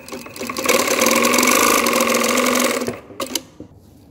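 A sewing machine being checked for thread tension runs in one steady, close, loud burst of rapid stitching, then slows to a few clicks and stops.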